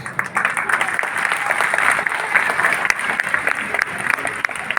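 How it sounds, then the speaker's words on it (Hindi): An audience claps steadily throughout a motivational speech given by a district collector, a dense, sustained burst of applause from a crowd that stays loud and continuous without any talking over it. "ये ताली आपके लिए, आपके हौसले के लिए।"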